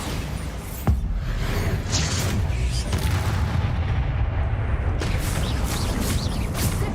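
A heavy magical blast from the Bombarda spell in Hogwarts Legacy, a sharp crack then a sustained rumbling roar and debris wash, followed by further bursts.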